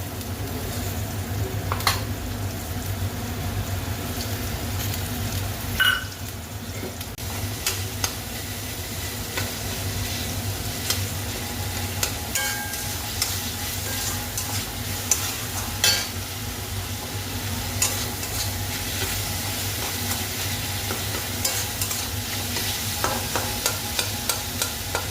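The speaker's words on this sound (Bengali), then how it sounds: "সব মশলাটা মিশিয়ে ভালো করে কষিয়ে নিই" Fish-head spice masala stirred and sautéed in a pan for a fish-head muri dish, with a steady low sizzle and repeated scraping stir strokes running throughout, close and continuous.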